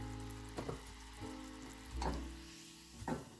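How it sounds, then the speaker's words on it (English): Low-carb peppermint syrup simmers in a pot: a soft, steady bubbling hiss under a low hum, broken by a few light clicks or stirs, fairly faint and with no voices. "Let's turn it down and continue to let it simmer for about 5 minutes"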